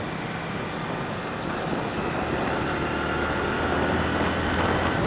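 A motorcycle engine runs steadily in third gear, a continuous broadband drone with no talk over it.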